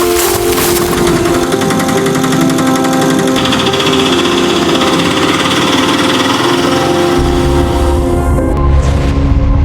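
An auto rickshaw arriving gives off a loud, buzzy, high-revving small-engine drone that stays close and continuous, shifting in pitch as it pulls up.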